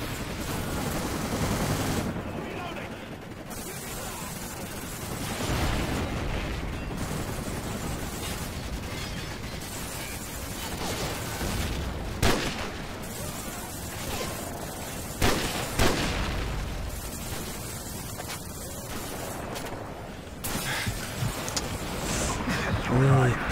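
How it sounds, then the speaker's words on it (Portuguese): Rapid gunfire from the video game Call of Duty 4: Modern Warfare rattles in dense bursts and single cracks for over twenty seconds, loud and continuous, with a player talking over the battle at times. "Tem um tiro de sniper, né?"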